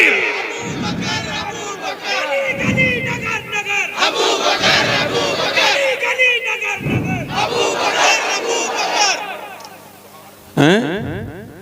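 A large crowd at a religious gathering roars back chanted slogan responses in loud, repeated bursts, each swell following a leader's call, with dense massed voices echoing and a final sharp shout near the end.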